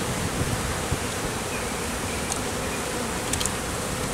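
A honey bee swarm being captured hums as a dense, continuous buzzing drone, close and steady, with faint occasional clicks.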